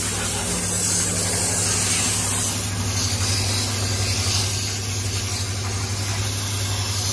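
A pressure washer sprays water across a motorbike body at a bike and car wash centre in Anantapur, giving a steady, loud hiss with a low motor drone underneath, continuous throughout.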